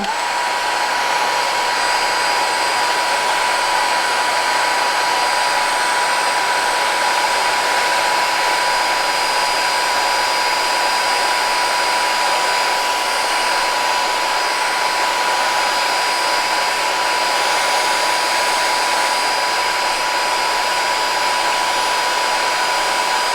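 A small cordless baby hair and body dryer blows continuously on adult hair with a steady high-pitched motor whine and airy rush, loud and unchanging, with no other sounds.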